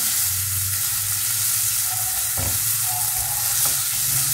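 Chopped onion frying in a pan as the base of a sugo tomato sauce, a loud, dense, continuous sizzle up close with a couple of brief utensil clicks.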